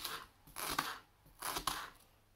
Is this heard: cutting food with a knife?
yes